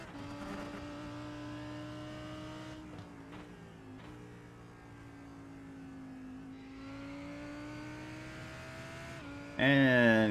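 A GT3 race car runs at Watkins Glen, its engine holding a sustained tone that rises and falls through gear changes as it drives the circuit, with a commentator talking over it and a sharp loud burst near the end.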